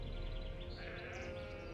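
Sheep bleating on a farm in the Gothic II video game: one drawn-out, wavering bleat up close against a low background hum, with no voices.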